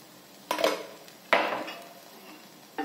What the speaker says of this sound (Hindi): तो मैं हल्का सा घी लगा रही हूँ